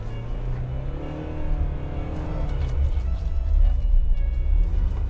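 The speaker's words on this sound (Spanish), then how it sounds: "Ya noto que estoy en el barro, acelero para intentar salir, acelero para intentar salir." A 4x4 SUV's engine revs as it tries to pull free while stuck in very soft mud. It is a loud, close, low rumble that swells and grows harsher over a few seconds of sustained acceleration.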